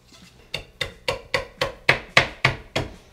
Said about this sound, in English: Busting out the chisel for this next part.